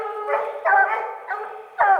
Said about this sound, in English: We're here at the tree now. The dogs are just right there treed.